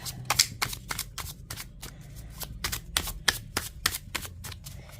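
Tarot cards being shuffled by hand, a quick rhythmic series of crisp riffling flicks and slaps, close and clear with no talking.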